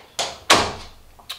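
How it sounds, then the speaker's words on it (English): A drawer pushed shut indoors, giving a couple of close, sharp wooden knocks followed by a lighter tap, with no talking. "let me close this drawer."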